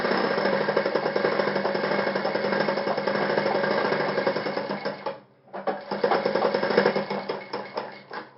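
An electric sewing machine stitches a shirt collar band, a loud, rapid, even needle rattle running steadily, pausing briefly for about half a second, then resuming at the same close, fast pace.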